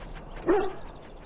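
A single short bark from a Mabari war hound in Dragon Age: Origins, a brief loud burst standing alone against a low ambient background.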